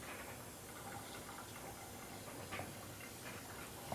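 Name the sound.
tap water running over potted plant in sink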